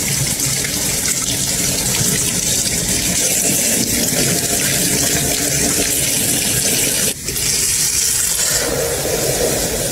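Water gushes and splashes continuously into a coffee maker while rinsing it out, loud and close, with one brief break before the flow resumes.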